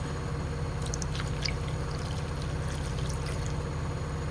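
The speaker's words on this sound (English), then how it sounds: "I'm just going to add some water in it now." Water poured into a pot of cooking chicken with spices, a steady close splashing and trickling pour over a constant low hum, with no talking.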